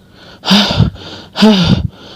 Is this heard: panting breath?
yes